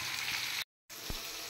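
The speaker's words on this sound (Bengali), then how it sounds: "এদিকে আলু ভাজা হয়ে গেছে, আর এদিকে আমি আলুর দমের মশলাটা কষিয়ে নিচ্ছি।" Potatoes fry while a ginger-cumin spice paste with chili and turmeric sautés for vegetarian aloo dum, a close, steady hissing sizzle interrupted by a short silent gap.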